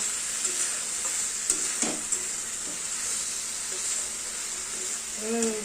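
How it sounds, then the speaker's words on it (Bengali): Malabar spinach curry with hilsa fish head, potato and pumpkin is stirred in a pan, a steady close sizzle with hiss running throughout and occasional scraping strokes of the spoon. "ভালো করে নাড়তে হবে এবারে তরকারিটা অনেকটাই মজে গেছে"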